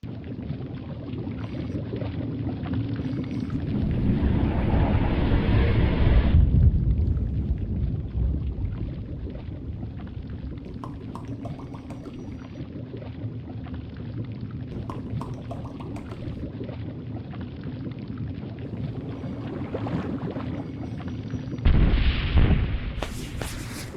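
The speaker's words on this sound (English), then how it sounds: "It sounds like distant thunder." A deep, rolling rumble like distant thunder sounds in a video game. It swells to a loud peak early, fades to a low background roar, then flares again in a brief burst near the end.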